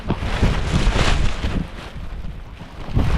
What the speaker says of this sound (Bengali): প্রচণ্ড বৃষ্টি, দেখতে পাচ্ছেন ঝোড়ো হাওয়া